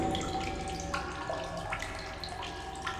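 Tap water running steadily into a basin in a sci-fi survival exploration game, a continuous close splashing flow with faint drip-like accents and no talk.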